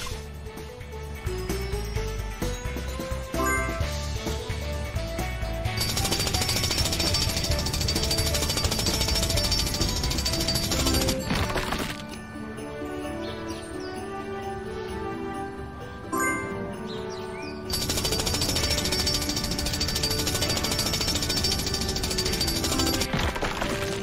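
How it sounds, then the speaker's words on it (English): A loud mechanical drill hammers continuously at rock, a harsh rapid pounding with brief pauses in between, accompanied by game sound effects, in PAW Patrol Mighty Pups: Save Adventure Bay! "Help Rubble use his drill to clear the way."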